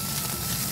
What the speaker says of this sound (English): We're gonna go ahead and add a little bit of vegetable oil, add our onions